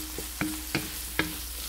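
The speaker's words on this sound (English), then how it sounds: "we will just saute this until this will become slightly golden brown or translucent" Onions saute in a pan for beef with vegetables, a steady low sizzle broken by three or four sharp spatula taps and scrapes against the pan.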